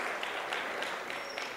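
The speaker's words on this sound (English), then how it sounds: "May we please give them one last hand of applause for that" Applause from an audience at an education conference session, a brief steady patter of many hands clapping at moderate volume, continuing throughout without a break.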